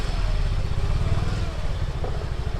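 A motorcycle engine putters nearby with a steady low drone as the bike travels along a narrow path behind houses beside a creek.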